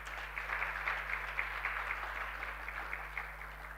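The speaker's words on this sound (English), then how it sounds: "just another round of applause to the Article 12 students" Applause from an audience at a Children's Day celebration, honouring student presenters: steady, distant, fairly faint clapping over a constant low hum.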